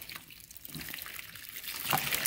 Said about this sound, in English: I'm going to slowly pour that over this so that we can watch it expand um, and absorb all this water.